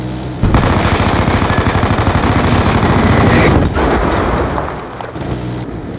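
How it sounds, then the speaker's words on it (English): A sentry gun in a multiplayer shooter video game fires in a loud, rapid, continuous burst of close automatic shots, then tapers off into quieter in-game ambience. "There's a sentry gun on their flag, yo."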